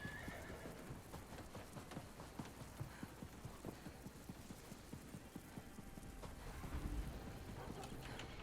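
A horse in The Elder Scrolls Online whinnies while its hooves clip-clop in a steady, busy rhythm, with faint rain-like patter behind it and a louder swell of hoofbeats near the end.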